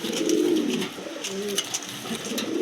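Rajshahi Giribaz pigeons at a wholesale pigeon seller coo in soft, throaty bursts, several overlapping calls close by with no talk.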